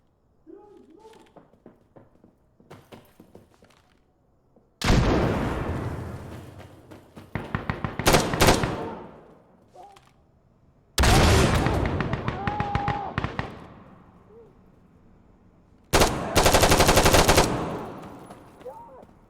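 Gunfire from the video game Insurgency Sandstorm comes in three loud sustained automatic bursts, each lasting a few seconds. Quieter gaps lie between them, with scattered single shots and shouting voices.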